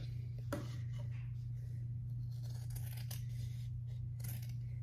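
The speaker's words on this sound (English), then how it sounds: "I'm just going to cut out a rough sketch of a heart." Scissors cutting a rough heart shape out of folded card stock, a few faint snips and paper rustles over a steady low hum, close but quiet.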